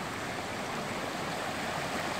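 Cold, clear mountain stream in Kashmir rushing steadily and close by, a dense continuous wash of flowing water with no voices over it.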